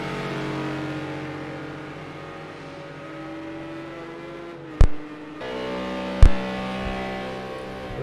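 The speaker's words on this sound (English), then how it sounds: "With Ferrari just going by now with the McLaren of Nero" Race car engines in a racing video game at Hockenheimring, a sustained droning whine with shifting pitch, broken by two sharp transient bursts as cars go by.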